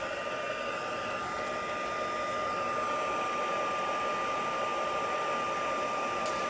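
A heat tool blows hot air steadily over a stamped watercolour-pencil Christmas card, a continuous close, even whooshing roar with a faint whine running alone throughout.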